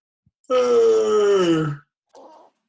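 A single long, drawn-out yawn with a descending groaning voice, followed by a short breathy exhale; a person imitating a yawn.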